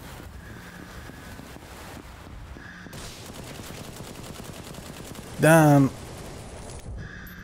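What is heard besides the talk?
shotgun fire in video game VLADiK BRUTAL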